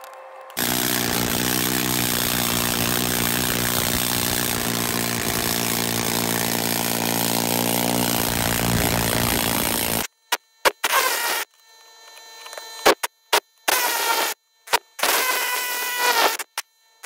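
A power tool hammers on the front suspension parts of a Silverado 2500HD truck. A loud, continuous rattling drone runs for about ten seconds, then comes several short, choppy bursts separated by brief silences.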